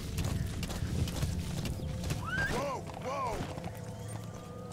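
A horse trots steadily with rhythmic clip-clop hooves in the video game Metal Gear Solid V, and a brief whinny rises midway over a constant game background.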